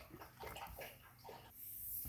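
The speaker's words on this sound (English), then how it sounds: "I'm going to fill a pitcher up really quick" Water runs from a tap into a pitcher while eggs are readied for dyeing, a steady, gushing splash that shifts in tone as the vessel fills, close and alone without talk.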